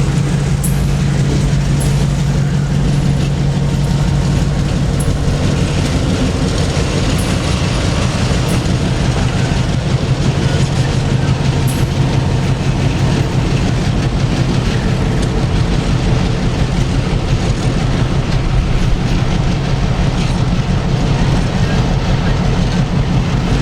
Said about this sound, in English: I found them with a good-sized train at the Florida Natural Plant. It seems they were done switching and ready to shove into Lake Wales.